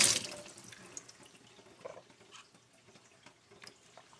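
Cold water runs from a tap, a soft close trickle with scattered drips and splashes, quiet and steady after a brief louder rush at the start.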